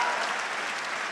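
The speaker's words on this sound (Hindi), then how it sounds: "और अब आपकी तालियां उठेंगी।" Brief burst of steady audience clapping at a Hindi comic poetry recital (kavi sammelan), moderately loud and even throughout.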